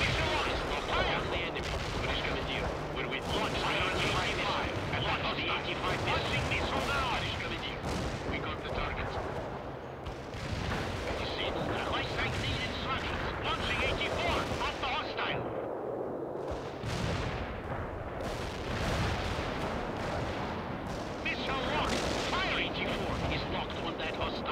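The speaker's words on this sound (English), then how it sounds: "Army command has finally deemed it prudent to give us fire support." Artillery shells and gunfire pound away in the real-time strategy game World in Conflict, a dense, continuous barrage of booms and rattling shots that lasts throughout, with voices talking over it.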